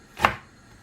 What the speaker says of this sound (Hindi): अब ये जो अदरक रह गई इसको मैं थोड़े चाप करके और लंगड़ी में मैं पीसूँगी